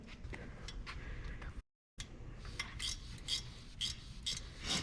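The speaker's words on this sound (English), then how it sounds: "Now you understand the awesomeness of a ratchet wrench?" A ratchet wrench tightens the exhaust manifold bolts on a turbocharged Yukon XL, giving a close, rapid clicking rasp in repeated bursts with a brief gap.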